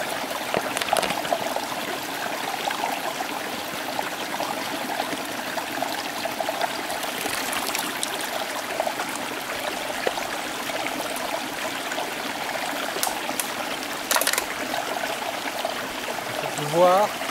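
Water trickling through a cloth pre-filter into a bottle, a steady close pouring and splashing stream, with someone speaking over it at times.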